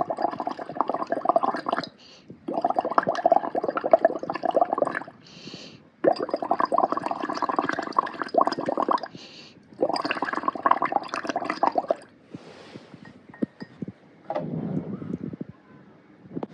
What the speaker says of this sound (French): On prend la paille et on souffle dans le 2e bécher